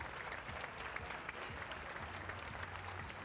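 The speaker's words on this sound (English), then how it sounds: "Nice applause here from the faithful at John M. Huntsman Center as she sits up." A steady wash of applause from the home crowd at the John M. Huntsman Center during a Kansas State versus Utah game as an injured player sits up, sustained and even throughout, with a low voice faintly underneath.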